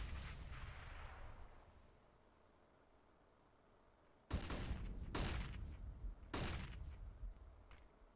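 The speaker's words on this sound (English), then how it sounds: "So, ton of flashbangs going off" Counter-Strike match with flashbang grenades going off: a soft hiss fades out, then several sharp, loud bangs burst one after another over a few seconds.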